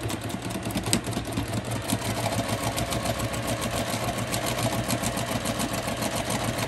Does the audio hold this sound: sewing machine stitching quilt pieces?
yes